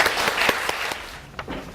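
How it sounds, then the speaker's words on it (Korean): Audience applause welcoming the Consul General in Sydney at a children's Dokdo and East Sea drawing contest award ceremony, a short burst of many hands clapping that thins out and fades toward the end. "자, 박수로 환영해 주세요."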